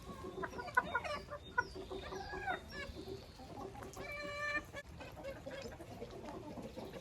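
Hens clucking and squawking inside a chicken coop, several birds calling in overlapping bursts at close range, with a rhythmic run of sharp repeated cackles midway and shuffling background noise throughout.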